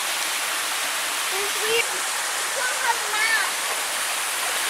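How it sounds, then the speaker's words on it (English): Steady broadband rush of a waterfall pouring into a natural swimming hole, constant and close, with brief voices and splashes over it. "Swimming in a natural pool. In a waterfall."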